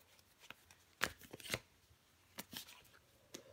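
Tarot cards being drawn and laid down: a few soft, brief paper flicks and slaps, close and quiet, with no talking.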